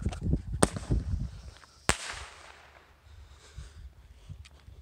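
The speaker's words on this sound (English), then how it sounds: "I thought I'd just shoot a little mini show to get something up on YouTube" Small mini ball shell fireworks fire in quick succession, two sharp loud cracks with rumbling low booms and crackle between, outdoors at a moderate distance with no talking.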